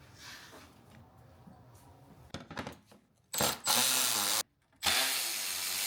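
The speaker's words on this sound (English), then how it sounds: "there's going to be four 10mm screws we have to undo" A power tool backs out the 10mm front bumper screws on a Lexus GX460, with short clicks and rattles followed by two loud bursts of motor whir up close.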